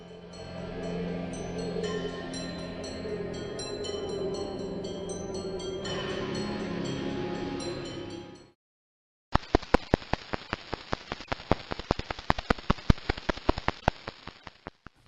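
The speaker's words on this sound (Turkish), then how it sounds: "Fonda dinlediğiniz bu ses ise PSRB 1055-52 adı verilen pulsara ait." A radio signal from pulsar PSR B1055-52 converted to sound: a dense hissing texture gives way after a brief silence to a sparse series of sharp clicks and ticks at an irregular, rapid rhythm.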